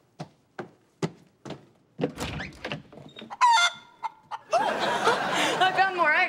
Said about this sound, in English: That's a weird knock.